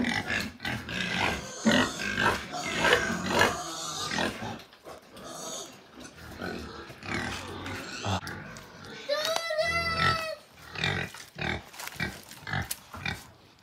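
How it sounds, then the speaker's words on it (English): Pigs being fed in a hog pen on a Jamaican farm grunt and oink loudly and repeatedly nearby, with one drawn-out squeal in the middle, while people talk and someone speaks over them. "we're feeding the pigs in the hog pen. My God, they're loud."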